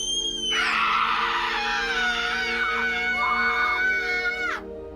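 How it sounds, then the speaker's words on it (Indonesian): Several voices scream hysterically together in a long, loud, sustained wail, held steadily for about four seconds before cutting off abruptly. "Dan mereka juga berteriak histeris bersama untuk mengusir kebosanan."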